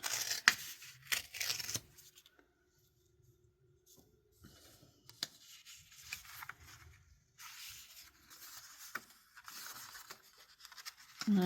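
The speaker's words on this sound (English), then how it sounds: "And I'm just going to rip it." Folded paper torn by hand for a junk journal page, with a few short quiet ripping and rustling bursts separated by near-silent pauses, close and fairly faint.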